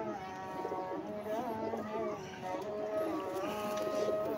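Red pigeons coo softly and repeatedly, their throaty warbling calls overlapping against a quiet background, with faint voices now and then.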